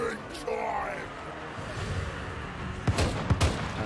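Artillery fires during a Total War: Warhammer 3 battle between Ogre Kingdoms forces and Cathay in the mountains, a steady rumbling battle din punctuated late by three sharp, loud booms in quick succession.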